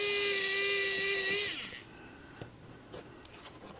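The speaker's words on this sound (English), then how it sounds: "Drill all the way through." A high whining drill runs steadily through the shell of an Athearn SD45 model locomotive for about a second and a half, then winds down, leaving faint clicks and quiet scraping.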